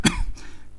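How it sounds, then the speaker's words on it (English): A man coughs once sharply, then gives a wet, gurgling throat sound as he coughs up blood, close and dry as a dramatised effect, with another harsh cough starting at the end. "A gurgling sound filled the air as he coughed up blood."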